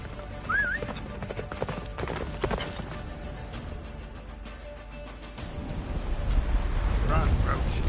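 In The Witcher 3, the horse Roach gallops with rapid clip-clopping hooves, steady and fairly close, over windy blizzard ambience with occasional other game sounds and no talking.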